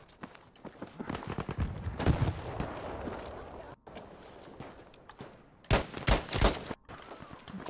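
Shots in a Battlefield V multiplayer beta match, a scattered run of sharp gun reports with a louder close burst of rapid fire near the end, with footstep-like thuds between them.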